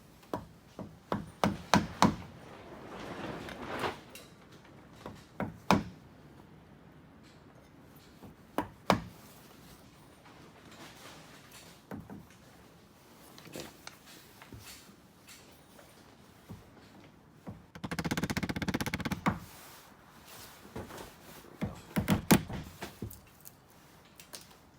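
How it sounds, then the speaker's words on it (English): A chisel works into wood to straighten a saw cut, giving scattered sharp taps and knocks in short bursts with pauses, plus a stretch of scraping, fairly faint and close. "I'll straighten it out with the chisel"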